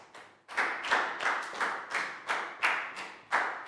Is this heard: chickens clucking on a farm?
no